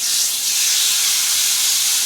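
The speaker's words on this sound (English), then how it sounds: "Hear that sizzle?" Steady, loud sizzling hiss of chicken breast searing in a hot pan, continuous and close, with no voices.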